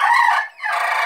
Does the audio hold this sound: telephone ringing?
no